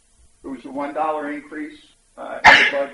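A single sudden sneeze bursts out near the end, close and loud, right after someone speaks at a public budget hearing.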